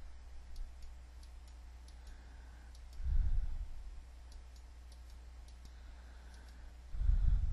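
A computer mouse clicks a few times in quiet sequence while working in Photoshop, small sharp taps over faint low room hum, with a couple of soft thumps.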